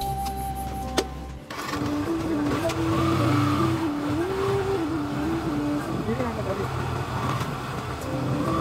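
A motorbike's engine runs steadily and fairly loud after a click at the start, its pitch wavering and rising slightly as the bike rides off.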